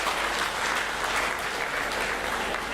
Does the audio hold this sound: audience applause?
yes